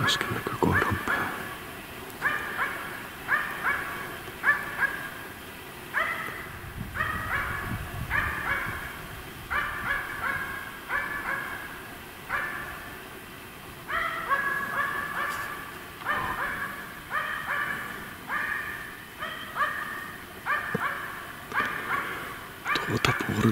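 A hunting dog, a Finnish Spitz, barks steadily and persistently over a long stretch, rapid bark after bark in the forest, somewhat distant and echoing.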